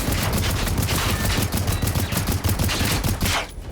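Sustained automatic gunfire from a Hunter robot in the video game Generation Zero, a dense loud clatter of rapid shots that runs nearly the whole stretch before cutting off abruptly near the end.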